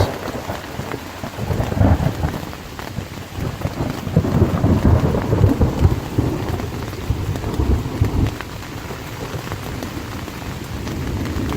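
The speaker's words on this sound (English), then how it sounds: "Wait for the thunder," Steady heavy rain with a deep, rolling rumble of thunder swelling and fading throughout at a campsite on the Appalachian Trail, loud and close, no voices.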